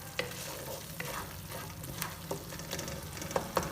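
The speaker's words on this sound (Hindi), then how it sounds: "अब आप चम्मच के साथ ही इस मसाले को इस तरह से मैश कर लें" A spoon mashes tomato masala frying in a pan for dhaba-style chana dal, giving soft scraping strokes over a steady sizzle, close and continuous with a few sharper taps.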